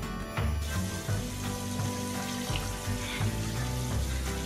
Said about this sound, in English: the last thing we're gonna do is cover these completely with water